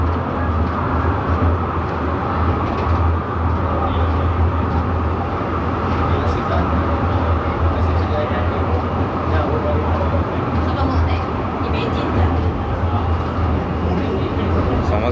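A funicular tram climbing uphill on Penang Hill in Malaysia gives a steady, loud rumble and rolling rail noise that runs unbroken through the whole stretch, with no clear break in it.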